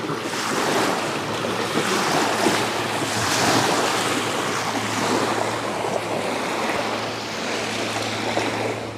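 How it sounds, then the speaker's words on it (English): A passing boat's wake strikes a small craft broadside, waves sloshing and churning loudly against the hull in a continuous surging wash, with wind buffeting the microphone and no talking. "you guys are getting hit broadside by some wakes from that boat"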